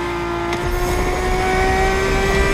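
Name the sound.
car engine revving in The Crew Motorfest video game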